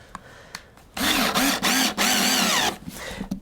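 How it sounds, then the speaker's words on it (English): A power drill drives 5/8 screws, its motor whining loudly in short bursts with brief pauses between pulls of the trigger, set against a quiet workshop background. "when you drive your screws, again 5/8 screws"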